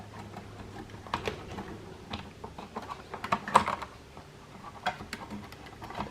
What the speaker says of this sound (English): So just pry open right there and just pull the power supply out.